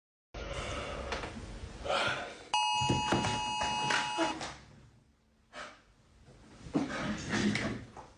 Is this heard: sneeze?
no